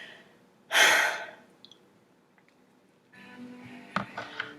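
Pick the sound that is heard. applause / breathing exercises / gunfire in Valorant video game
breathing exercises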